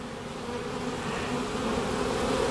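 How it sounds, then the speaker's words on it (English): Honeybees fly around a hive in a steady, continuous buzzing drone that stays close and even from start to finish, with no voices. "you people that's got your bees flying"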